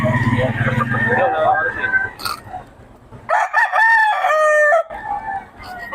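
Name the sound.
stag rooster crowing at Bocaue poultry market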